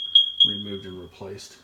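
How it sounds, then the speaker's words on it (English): A smoke alarm in a house beeps with sharp, high-pitched chirps, short and repeated, with a continuous tone underneath while a person speaks over it close by. "that's a fire alarm."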